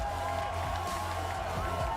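A hometown crowd at an esports grand final in Salt Lake City cheers and whoops after a game win, a sustained roar of voices with scattered shouts spread across the arena.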